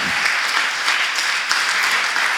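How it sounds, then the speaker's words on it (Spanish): Loud, vigorous applause from a church congregation standing on their feet, a dense, continuous roar of clapping hands filling the space. "darle un aplauso al Señor"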